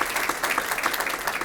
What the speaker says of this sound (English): How about a round of applause for those outstanding educators to compete at that level?